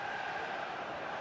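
A steady roar from a stadium crowd in a football video game fills the scene, a continuous dense cheer with no break.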